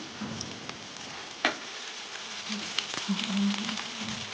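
Kothimbir vadi pieces shallow-frying in a pan over a low flame give a faint, steady sizzle with soft crackles and an occasional small tick or clink, heard alone without talk.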